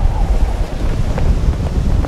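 Storm-force wind above 50 knots roars across open sea aboard a boat, a loud, unbroken gusty rush with churning waves beneath, no voices.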